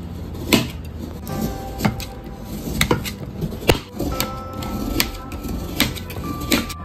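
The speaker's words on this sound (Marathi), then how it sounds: "आता आपण गूळ आहे त्याचं बारीक करून घेऊया" Jaggery being grated by hand in a home kitchen, heard as scattered scraping and clinking strokes, with metal and utensil knocks at an uneven rhythm, close and moderately loud with no voices.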